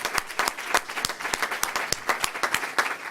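Scattered audience applause for Minister Louis Farrakhan at a speech, a thin run of distinct claps at moderate distance, fairly quiet and steady throughout.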